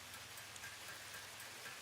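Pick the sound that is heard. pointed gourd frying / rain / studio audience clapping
rain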